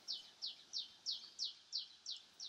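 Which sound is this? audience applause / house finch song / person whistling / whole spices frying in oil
house finch song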